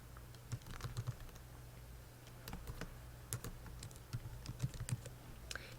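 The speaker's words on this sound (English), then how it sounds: "you're going to type in your email address" Typing on a computer keyboard, soft irregular clicks in short bursts at close range, fairly quiet and alone without speech.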